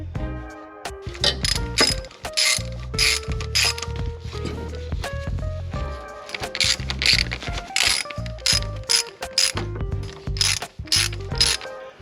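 A hand ratchet tightens bolts while axles go back into an MK4 Golf during clutch replacement, loud rapid clicking bursts in repeated strokes with short pauses between, close and clear, no voices.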